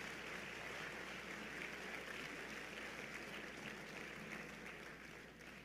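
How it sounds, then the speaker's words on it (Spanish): Sustained applause from a church congregation, a dense, even wash of clapping held at steady volume throughout, easing slightly at the end, with no voices standing out. "Dale un aplauso al Rey de Reyes y al Señor de Señores."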